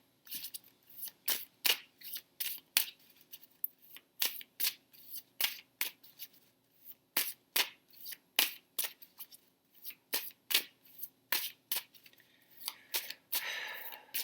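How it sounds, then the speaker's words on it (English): Tarot cards are shuffled and pulled in quick, crisp bursts of papery snaps that repeat steadily and close up, with a longer riffling rustle near the end. "So we are pulling some cards for Scorpio."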